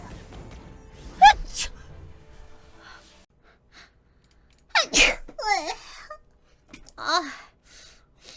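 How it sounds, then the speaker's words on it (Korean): Several sharp human sneezes, each a sudden explosive burst, with gasping intakes of breath and snorts between them, set against near-silence. "제가 언제 재채기를 저렇게 했죠?"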